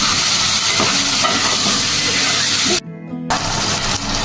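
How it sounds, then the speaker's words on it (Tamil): Chopped tomatoes hit hot oil with fried onion and ginger-garlic paste while making chicken gravy, giving a loud, continuous, close sizzle that briefly cuts out before the hiss resumes. "தக்காளியை சேர்த்துக்கிறேன்."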